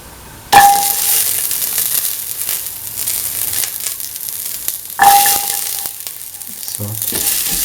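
Shallots hit a hot pan with a sudden loud sizzle, settling into steady frying; a second sharp burst of sizzling follows midway, with light clinks of a utensil toward the end.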